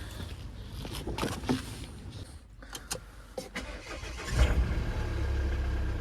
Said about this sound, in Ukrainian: завівся автомобіль гарно.